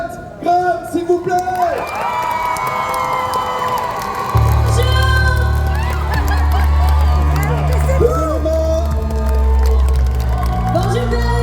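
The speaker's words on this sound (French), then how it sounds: "un tonnerre d'applaudissements" Festival crowd in Paris cheering and whooping for a performer taking the stage, with sustained shouts and a low music bed entering partway through, loud and continuous.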